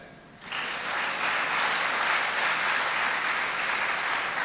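An audience breaks into applause after a brief quiet moment, and the clapping stays dense and steady for several seconds at an induction programme.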